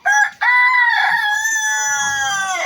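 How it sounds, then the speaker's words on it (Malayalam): A small fancy bantam chicken with feather-covered feet crows loudly and close by, giving a short clipped note and then one long drawn-out crow. "ഫാൻസി കോഴി എന്ന് പറയും. ഫാൻസി കോഴി."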